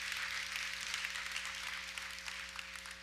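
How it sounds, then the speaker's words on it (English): Church congregation applauding, a dense, even wash of clapping heard from a distance at low level, with a steady hum beneath it. "Let's give the Lord a round of applause."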